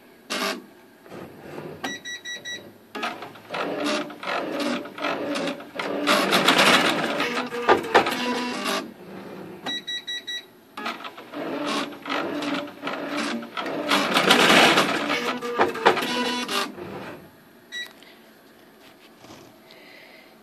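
Home embroidery machine stitching an in-the-hoop Christmas stocking, running in rapid buzzing stretches with brief pauses and small beeps between segments, close and steady for about twenty seconds.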